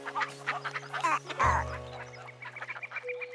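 Cartoon ducks quack in a few quick, nasal calls, fairly close, over a soft sustained musical tone in an animated children's show.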